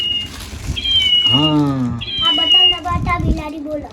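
A cat gives two drawn-out, rising-and-falling meows up close indoors, with voices talking softly around it.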